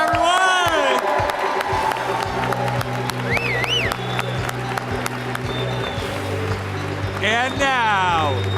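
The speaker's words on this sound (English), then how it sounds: "Let's clap it up, everyone!" Loud crowd cheering and whooping at a community rally with basketball-style lineup introductions, with sustained noise, shouts and whistles throughout and a voice over a PA.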